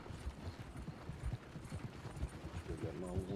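Horse hooves clopping in Red Dead Online, a quick steady rhythm of hoofbeats, fairly close, running under a speaking voice.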